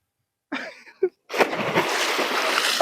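A short vocal sound and a sharp exclamation, then a loud splash as someone plunges into well water, followed by churning, sloshing water.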